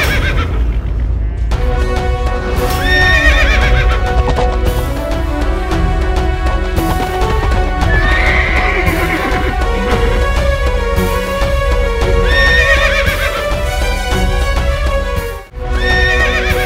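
A horse neighs and whinnies repeatedly over dense, loud accompanying music, with its hooves clip-clopping in steady rhythm for most of the stretch before a brief drop near the end.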